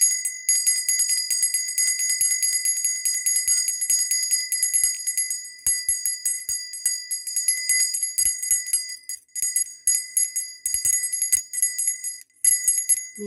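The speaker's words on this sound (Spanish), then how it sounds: "Sonido de campana" A small bicycle-style bell rings rapidly and continuously, a bright metallic trill repeating with brief pauses, close and clear.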